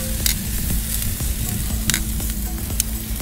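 An entrecote steak sears on a gas-heated teppanyaki grill plate, a loud, steady close sizzle with crackling pops, no voices.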